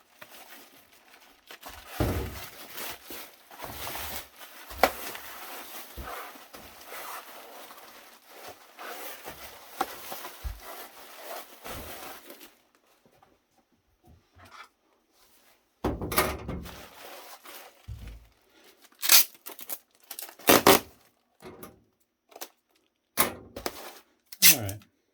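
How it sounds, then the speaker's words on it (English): A server or networking switch power supply is wrapped in bubble wrap, giving a steady crinkling rustle that stops partway through and then returns as sharp, intermittent crackling bursts. "gotta wrap it in bubble wrap."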